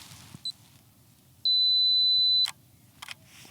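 A camera on a two-second self-timer gives a short chirp, then a steady high beep lasting about a second, ending in a crisp shutter click, with a second click moments later, all close and clear against quiet outdoor ambience.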